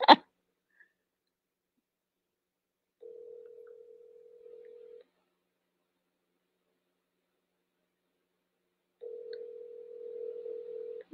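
A telephone call's ringback tone plays two long, steady buzzing tones separated by about four seconds of silence, after a sharp click at the start. Fairly faint and alone, with no voices.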